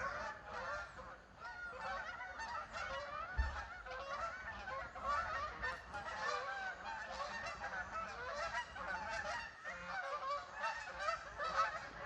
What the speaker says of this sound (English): here's some more geese